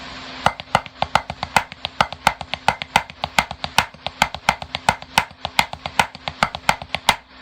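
A steady run of sharp, evenly spaced drum strokes with recurring louder accents, played alone at a moderate tempo.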